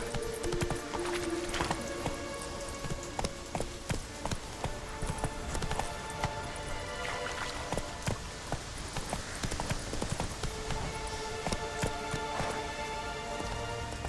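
A horse from The Witcher 3 video game gallops with quick, rhythmic hoof clops that repeat steadily and fairly faintly over a constant patter like rain.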